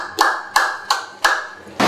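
Five sharp, evenly spaced hand claps ring out close and loud in a quiet room, a small audience at a Pakistani celebrity chat gathering applauding a married couple.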